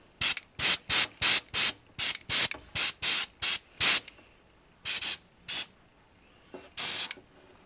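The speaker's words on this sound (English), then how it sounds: "I'm just gonna dust it with a little bit of airbrush" An airbrush dusting color onto a wafer paper rose, a series of short, sharp hissing bursts in quick succession, then a few more spaced-out sprays after a pause, close and clear with no talking.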